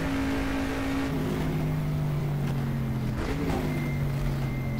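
Corvette C3 engine in the racing game GTR2 at 1970s Sebring, a steady loud drone with rising and falling harmonic tones as the revs shift, continuous throughout with no talk.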